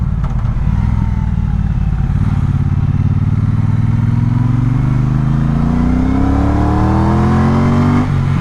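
A Triumph Speedmaster cruiser motorcycle engine accelerates hard and close, a loud steady drone whose pitch climbs through the gears for several seconds, with a brief dip near the end as it shifts up.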